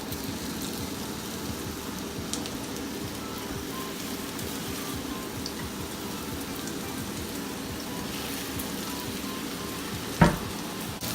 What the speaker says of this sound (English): we are going to cook each burger patty 5 minutes on each side